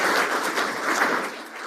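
An audience gives a round of applause for veterans at a fireside chat event, a steady dense wash of clapping that holds at an even level without voices.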